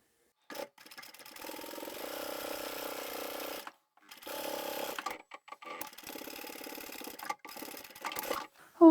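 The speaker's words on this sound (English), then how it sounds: "sew to the outside edge" A sewing machine runs in sustained bursts while stitching a bag pocket down to its outside edge, its steady motor hum broken by short pauses between runs, close and without any talk.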